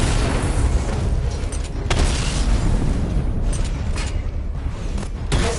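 Explosions destroy targets in Batman: Arkham Knight as a loud, dense wall of booming blasts and rumble runs unbroken throughout, with a few sharper bursts standing out.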